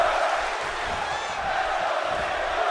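Restless arena crowd in the video game WWE 2K17 during a one-sided wrestling match, a steady, dense murmur of many voices with faint scattered whoops, loud and continuous throughout.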